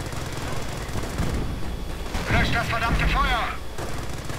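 Hummel self-propelled artillery and a 25-pounder gun firing in a war video game, a series of booming shots and rumbling impacts under an excited voice.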